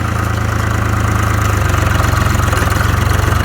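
A Case IH 395 tractor engine runs steadily in forward gear, a loud, even, low diesel throb with a faint rhythmic pulse that changes slightly partway through, and no one speaking.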